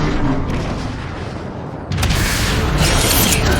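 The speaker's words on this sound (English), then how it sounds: "there are 3 warp cannons shelling the Ark" Decepticon warp cannons shelling the Ark in the game Transformers Fall of Cybertron: a continuous heavy rumble of bombardment, then a loud fresh blast with crackling debris near the middle that keeps the barrage roaring to the end.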